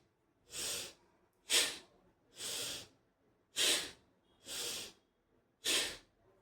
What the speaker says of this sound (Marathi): एका सेकंदात फक्त एकच भस्त्रिका करायचं आहे आपल्याला